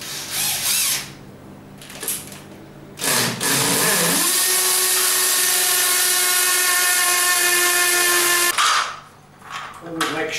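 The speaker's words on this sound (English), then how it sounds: "I'm going to mark the holes. First I'm going to drill these two." A power drill whines steadily for several seconds as it bores holes into a garage wall, with brief bursts of drilling before and faint movement after.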